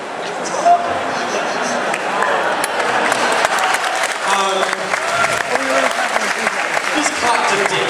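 Audience applause fills a convention panel Q&A hall, a dense steady patter of many hands with crowd murmur and voices mixed in throughout.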